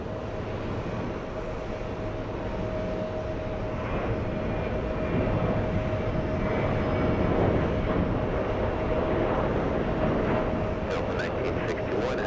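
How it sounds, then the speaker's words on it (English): A Delta Boeing 737 takes off for San Juan, Puerto Rico: a steady, distant jet roar with a sustained whine that swells slightly midway, and a few sharp clicks near the end. "We have a 737 flying to San Juan, Puerto Rico."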